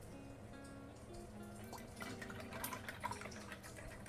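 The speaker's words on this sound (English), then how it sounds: "And then we're going to rinse out." A paintbrush is swished and rinsed in a water container during an acrylic painting session, producing faint soft drips and splashes over quiet background music.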